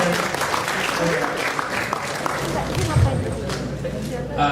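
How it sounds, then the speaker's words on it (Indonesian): Audience applause for the speakers at a student entrepreneurship workshop, a steady broadband clatter of many hands running throughout at moderate level, with a loud mixed voice layer and crowd murmur underneath. "tepuk tangan dulu buat semua pembicara"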